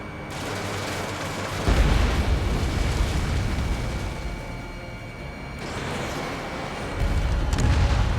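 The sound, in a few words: missile launch and explosion in Ace Combat 7 video game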